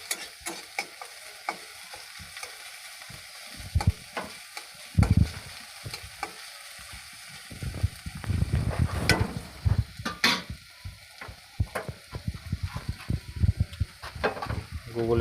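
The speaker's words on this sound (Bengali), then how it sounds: "হালকা করে লাড়তেই থাকবো যতক্ষণ না লাল হবে।" Snails frying in a pan and being stirred until browned: a steady sizzle under repeated scraping and clinking of a utensil against the pan, growing busier midway.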